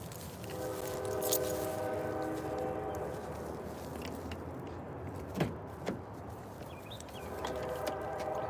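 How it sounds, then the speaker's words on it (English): A train rumbles past at a distance with a steady low roar, brief horn-like tones sounding at the start and end, outdoors with faint ambient noise. "I hear that train, but honey, these trains be so long over here."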